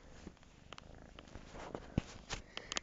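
A cat purrs steadily and softly up close, a low rumbling hum with a few faint clicks and rustles over it.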